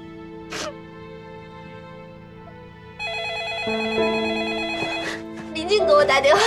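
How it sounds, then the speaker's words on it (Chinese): A telephone rings repeatedly in a home drama scene, its electronic tone rising and layering into a brighter melodic ringtone toward the end, with a brief sharp vocal burst near the start. "林静给我打电话"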